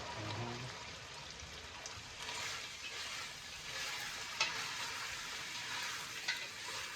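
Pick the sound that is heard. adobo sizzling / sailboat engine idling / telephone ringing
adobo sizzling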